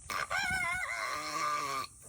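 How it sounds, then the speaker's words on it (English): A single chicken gives a hoarse, drawn-out raspy call, close and fairly faint, lasting under two seconds before cutting off. "It sounds like this chicken needs to stop smoking."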